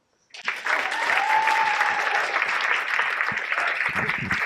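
A crowd breaks into sustained applause that starts suddenly and keeps going at an even level, with a few whoops mixed in.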